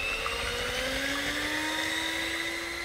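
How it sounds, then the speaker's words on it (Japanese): An electric hand mixer whips cream and sugar in a bowl set over ice water, giving a continuous motor whir with a steady pitch that rises slightly, heard close up and alone. "氷水を張ったボウルに重ねてハンドミキサーでくぶ立てにしていきます"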